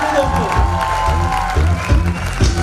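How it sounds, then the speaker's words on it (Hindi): An audience at a recognition program in Indore in 2022 applauds as a guest is called to the stage, clapping and some cheering mixed under loud music with a thumping bass beat. "एक बार जोरदार तालियां होना चाहिए"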